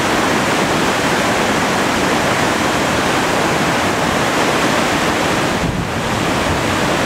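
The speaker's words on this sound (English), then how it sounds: "Just constantly blown away by the awesome power of that water." Powerful rushing water roars loudly and continuously, a dense, steady wash like heavy surf or a waterfall with wind noise, sustained without letup from start to finish and no voices.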